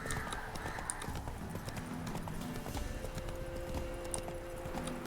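Hooves of the horse Roach clip-clop in a rhythmic trot in The Witcher 3: Wild Hunt, with game ambience around the steady footfalls and a soft whinny-like tone mixed in.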